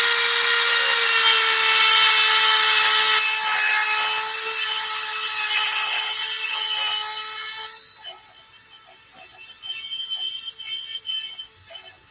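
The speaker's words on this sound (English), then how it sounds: "it's basically just lots and lots of small bits of carbide sticking out on this one. Just to widen this a little bit." King Arthur rotary carbide carving bit widening a hole in wood, a steady high-pitched whine close up that gradually fades and changes tone as the tool winds down, with no talking.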